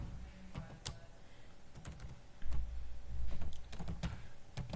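Typing on a computer keyboard while writing CSS code, heard as quick, irregular bursts of close key clicks and taps over a low background hum, with no talking.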